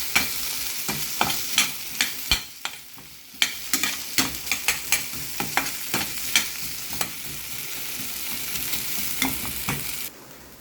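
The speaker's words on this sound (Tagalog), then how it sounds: "Next natin ay i-fry natin yung patatas." Potatoes fry in a pan with a steady sizzle, broken by repeated sharp scrapes and taps of a spatula stirring them, close and fairly loud.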